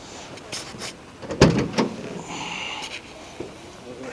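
The trunk of a 1955 Chrysler 300C being opened, a few close clunks and a louder latch thud followed by a short rattle, over faint background noise.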